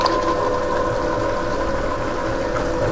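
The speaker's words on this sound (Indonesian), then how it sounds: "Ini mixernya kecil, bisa buat cake, bisa bikin roti juga. Sip ini ya. Oke, kita mixer dengan kecepatan penuh" Small electric hand mixer running at full speed while beating cake batter, a steady, continuous motor whine with a droning hum that holds close and even throughout.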